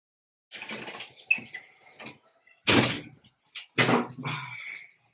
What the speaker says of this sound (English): He closed the bakery door and left for home.